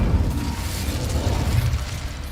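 An Incendio fire spell being cast in Hogwarts Legacy, a dense low roaring whoosh of flame that stays steady and loud for a couple of seconds, close and with no voices.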